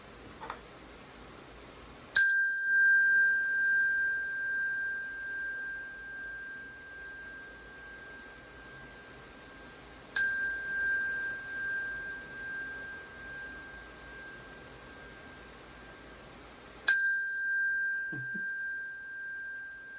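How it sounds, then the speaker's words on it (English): A small bell rings three times, widely spaced, for space clearing. Each strike is a clear, bright ping with a long, pure sustain that slowly fades in a quiet room. "I like to use the bell to just clear the vibration of the space."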